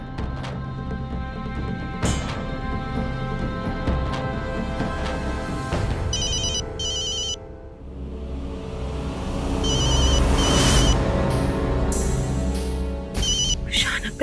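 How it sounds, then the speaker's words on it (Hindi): A phone rings in a Hindi TV drama household, with short bursts of bright electronic ringing repeating through a busy scene full of background music and rumble. "फोन उठाइए।"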